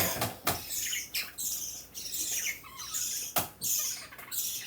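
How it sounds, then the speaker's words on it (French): Several birds burst into flight near a woodcutter's spot, with sharp broadband bursts of flapping wings and scattered chirps and squawks over a steady outdoor hiss. "Oh, les oiseaux sont décollés."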